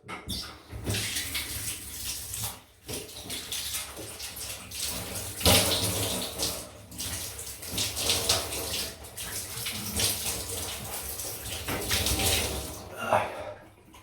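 Tap water runs continuously, rinsing a Rockwell 6S safety razor at the sink during a wet shave, a steady splashing rush with brief dips and pauses and no talk.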